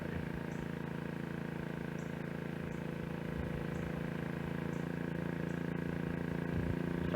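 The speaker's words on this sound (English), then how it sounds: "You can probably hear the generator running in the background" A generator charging a battery drones on in the background, a steady low hum with a constant tone and no change in pitch throughout, with faint ticks over it.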